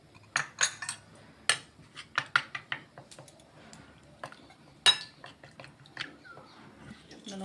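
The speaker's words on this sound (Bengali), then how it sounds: "এখন আমি এটা একটু জল দিয়ে গুলে নিচ্ছি মশলাটাকে" A spoon mixing turmeric and spice powder with water into a paste, sparse light clinks and scrapes against a bowl in irregular bursts, close and fairly quiet.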